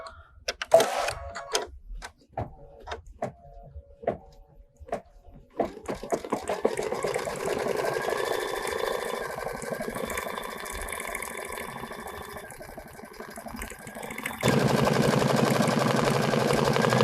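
An embroidery machine stitching a leaf design for an October fabric wall hanging starts after a few scattered clicks and beeps, then settles into a continuous close mechanical whirring buzz that grows louder near the end.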